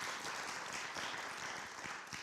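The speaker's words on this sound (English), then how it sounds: "He's yeah, absolutely, give applause." An audience at an all-church meeting applauds, a dense, even roar of many hands clapping throughout, fairly faint and distant, with no pause.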